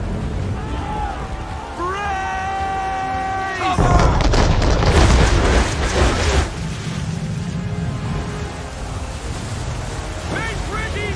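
Naval cannon fire aboard a ship in Assassin's Creed III during a battle with an English frigate: a loud booming burst of broadside fire over sea and wind noise, with shouted orders from the crew before and after.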